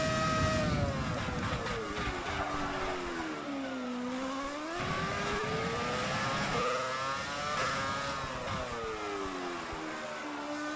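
A Ford Formula 1 car engine in the F1 2020 racing game buzzes loudly and steadily, its pitch sweeping up and down through gear changes and throttle lifts, with no talk over it.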